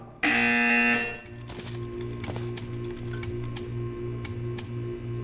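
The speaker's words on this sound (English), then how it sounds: "You will hear a buzzer." A short, loud electronic buzzer from Portal 2 blares for about a second, followed by quiet clicks and soft shuffling noises.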